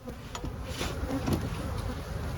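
A hive nicely full of honey bees in spring gives a dense, close, continuous buzzing hum.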